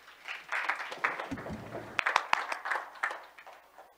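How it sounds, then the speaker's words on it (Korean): A conference audience applauds as a speaker takes the stage for a women's leadership session, fairly quiet scattered clapping swelling and fading, with a few sharp claps and brief words near the middle. "박수로 환영해 주시기 바랍니다."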